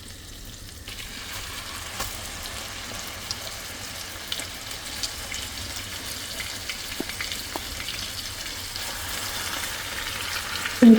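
Chicken pieces frying in hot oil and butter in a pan give off a steady crackling sizzle that holds throughout, with a few brief clinks and a louder bump at the very end; no one speaks.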